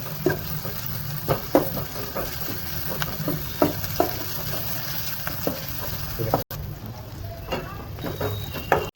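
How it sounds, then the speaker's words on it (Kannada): Food fries in a pan with a little oil, giving a close, continuous sizzle broken by regular stirring scrapes and the occasional light clink of a utensil. "ಫ್ರೈ ಮಾಡ್ಕೊಳ್ಳೋಣ"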